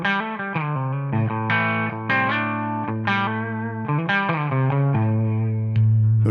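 Electric guitar played through a Tonex amp model on a clean setting with a little edge-of-breakup grit, picking sustained chords and single notes in a steady phrase, close and alone with light reverb tail.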